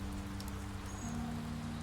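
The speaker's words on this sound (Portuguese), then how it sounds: "No meio da chuva, pô." Steady rain falls throughout in The Wolf Among Us, a dense, even hiss of drops with a low background hum, no voices.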